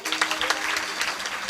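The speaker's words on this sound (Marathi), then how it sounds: "चालू दे अख्ख्या रात टाळी वाजा की जोरात एकदा" Applause from the audience at a Marathi kirtan, a steady wash of clapping that stays dense and even throughout, with no voices standing out.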